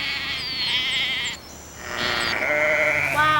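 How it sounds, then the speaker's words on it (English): Many sheep bleat together in overlapping, wavering cries, loud and close, a continuous chorus of a flock with a short dip midway. "if you get a lot of sheep together, it sounds like this"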